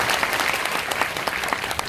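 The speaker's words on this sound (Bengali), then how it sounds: "আমি বলছি সবাই একটু করতালি দিয়ে আসার জন্য।" Students at a university agriculture batch's last-class party applaud to welcome the district commissioner, a brisk, even patter of many hands clapping at moderate volume throughout.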